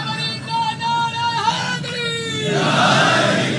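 A crowd at a Shia religious gathering with a cleric roars a religious slogan together. A voice is heard first, then a loud, sustained mass chant swells and holds to the end.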